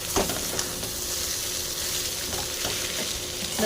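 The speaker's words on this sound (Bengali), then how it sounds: "এই বেশ ভাজা আমার হয়ে গেছে" Beetroot frying in a pan gives a steady, close sizzle throughout, with occasional soft scrapes of stirring over the hiss and no voices.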